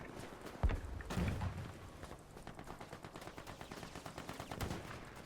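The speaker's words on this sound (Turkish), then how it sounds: "Kim sıkıyor biri sıkıyor" Gunfire in the Battlefield 5 video game, with a sharp nearby shot and a dense burst, then a steady run of rapid automatic fire from a distance lasting several seconds.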